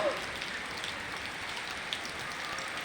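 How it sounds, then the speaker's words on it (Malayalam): Heavy rain falls on a wet road, a steady close hiss of drops and spatter throughout. "ഫുൾ മഴ വന്നിരിക്കുകയാണ്. Road നനവുണ്ട്, road നനഞ്ഞിട്ടുണ്ട്."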